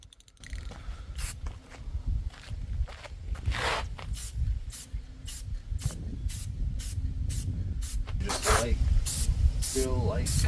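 Rattle can spray paint hisses in short repeated bursts during a light first coat on a low buck car paint job outdoors in a breeze, each spray pass clearly audible under someone talking.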